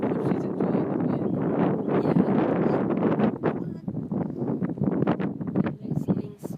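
Gusty wind buffets an outdoor camera at a bird nest, a loud, rough rumble of microphone wind noise that rises and falls continuously throughout.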